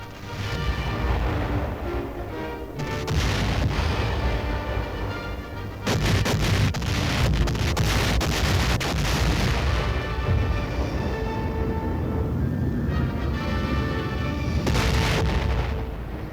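Archival 1945 footage of the naval and air bombardment of Okinawa carries continuous heavy booms and artillery blasts. The rumbling detonations overlap densely and stay loud throughout.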